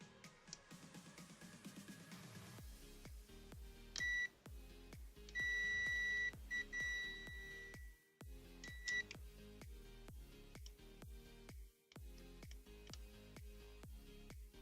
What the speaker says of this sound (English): That should beep out.